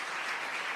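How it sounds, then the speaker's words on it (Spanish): A church congregation claps briefly in praise, a dense burst of applause with no voices over it. "Fuerte ese aplauso al Señor."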